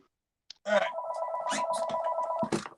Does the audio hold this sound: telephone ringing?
yes